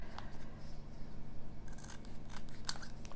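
Scissors snip through paper for a traveler's notebook, a few quiet crisp cuts close up, with soft rubbing between them and no talk.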